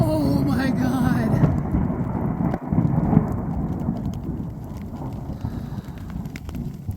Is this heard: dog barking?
no